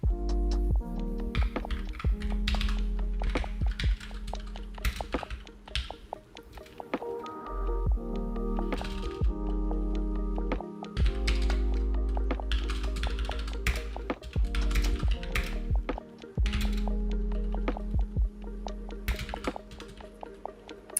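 Clicky typing on a WASD mechanical computer keyboard, steady rapid keystrokes with irregular bursts and pauses, close and fairly loud over a constant low tonal hum, with no talking.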